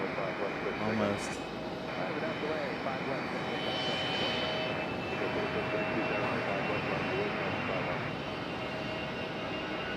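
Airbus A319 jet departing Raleigh-Durham International, engines roaring in a steady, loud broadband rumble with a faint whine on top, continuous throughout.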